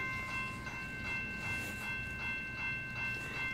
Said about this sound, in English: it's probably waiting for the second lane train to go by.